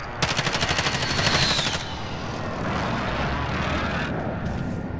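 Rapid video game gunfire rattles in a fast, loud automatic burst for nearly two seconds, then gives way to a broad roaring wash of battle noise with a few fainter later shots.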